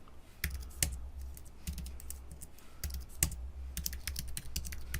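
Keystrokes on a computer keyboard as code is typed, sharp separate clicks in irregular bursts, fairly close and fairly quiet, heard alone without talk.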